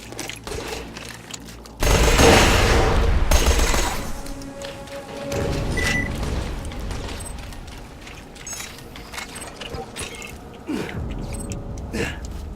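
Bursts of bandit shotgun gunfire in the shooter game Borderlands 2, loud blasts with mechanical clatter, a heavy burst early, then further shots and reloading noises at a moderate distance, with game effects between.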